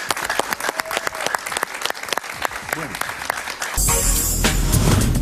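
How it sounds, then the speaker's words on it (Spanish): A studio audience on a TV talk show claps for a guest, first as scattered clapping under a host's speech, then swelling into full steady applause. "María Fernanda Cabal, un aplauso para ella."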